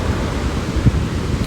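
Ocean waves at Solana Beach make a steady, loud wash of surf with wind buffeting close to the microphone, continuous and unbroken.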